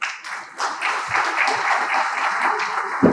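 Dense audience applause fills a hall at a national poultry veterinary symposium, a sustained wash of many hands clapping at fairly even loudness, with a louder thump near the end.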